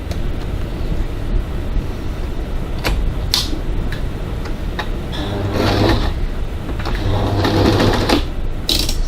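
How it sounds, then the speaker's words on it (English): Domestic sewing machine stitching the side edges of a no-zip crossbody bag, a steady mechanical whirr in bursts of running with brief clicks and pauses between them. "Now we'll go over to the sewing machine and stitch both those side edges,"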